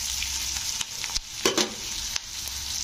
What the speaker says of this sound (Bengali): তো আমার পেঁয়াজগুলো কিন্তু ভাজা হয়ে গেছে।